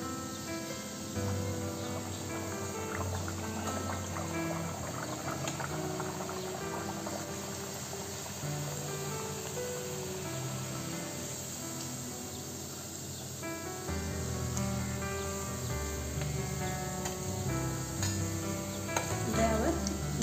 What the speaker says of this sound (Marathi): आता आपण वडे तळून घेऊया।